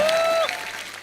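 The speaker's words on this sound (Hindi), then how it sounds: "इनके लिए जोरदार तालियां" A studio audience claps for the Mumbai dabbawalas at a comedy talk show, a brief burst that quickly fades.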